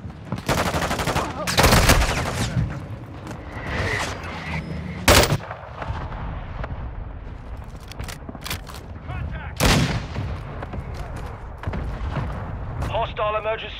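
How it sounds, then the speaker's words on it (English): Call of Duty Invasion gameplay on PS5: a hostile mortar strike lands amid heavy gunfire, with repeated loud blasts and bursts of rifle and machine-gun fire, and radio-style voice callouts between the explosions. "Hostile mortar strike incoming."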